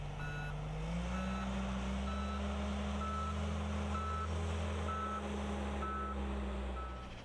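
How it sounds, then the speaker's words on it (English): An aircraft K loader backs up with its reversing alarm sounding a steady, evenly spaced series of beeps over a constant low engine drone, heard alone without talk. "Even though the reversal alarm is sounding, you still need to look behind you before and while backing up."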